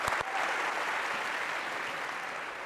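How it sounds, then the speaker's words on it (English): An audience in a computer science lecture hall claps for a volunteer, a steady, moderately distant wash of applause that holds for a couple of seconds after two sharp opening claps. "All right, a round of applause for Sahar."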